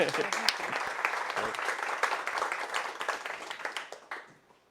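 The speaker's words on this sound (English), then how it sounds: "Round of applause." An audience at a hybrid green-tech talk event claps for an arriving speaker. The brisk crowd applause carries on for a few seconds, then tapers off to a few last claps.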